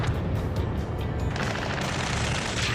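Dense, continuous gunfire rattles without pause in the Ace Combat Skies Unknown video game, with booming impacts and a steady wash of battle noise across the whole stretch.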